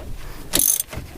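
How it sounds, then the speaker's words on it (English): A ratchet wrench tightening the nut on a car's sway bar link, a short close burst of ratcheting clicks lasting about a quarter second, then a softer click after a brief pause. "Okay, so now I'm tightening everything up."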